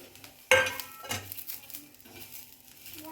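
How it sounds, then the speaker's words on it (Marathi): Grated coconut, coriander seeds and sesame seeds are roasted in oil in a pan. Soft stirring scrapes and clinks of a utensil against the pan sound over a faint sizzle, close and quiet. "खोबरे टाकल्यावर व त्याच्यातच मी धने आणि तीळ पण टाकत आहे."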